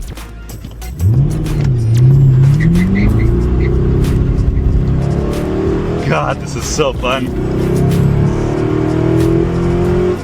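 A car engine revs and climbs in pitch, roaring steadily nearby with tire noise, while a person speaks briefly over it.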